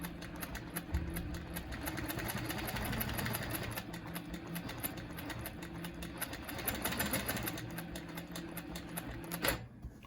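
A quilting sewing machine stitches fill on a quilt with a triangles ruler, running steadily with a fast mechanical hum and rapid needle ticking throughout, stopping with a sharp clack near the end.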